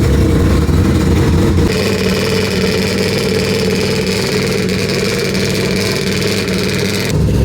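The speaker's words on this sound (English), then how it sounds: "Sounds a little different on idle." A four-rotor rotary engine in a Toyota Supra idles loudly and steadily up close, with a smooth buzzing drone and a higher whine entering partway through.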